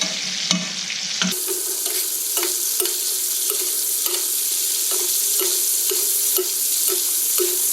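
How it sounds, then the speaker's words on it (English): A prime beef ribeye sizzles loudly in melted butter in a stainless steel All-Clad pan, a steady intense hiss broken by rhythmic spoon clinks against the pan as the butter is basted over the meat. "As the butter melts, we're going to give this a butter bath."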